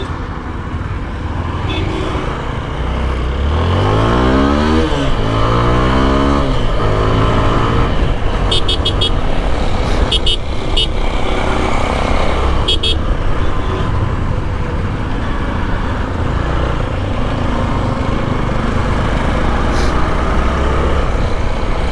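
An Apache RTR 160 4V with ABS, just back from its second service, revs hard on a test ride, its engine note climbing in rising sweeps midway, then holding a loud, steady drone over constant road and wind noise.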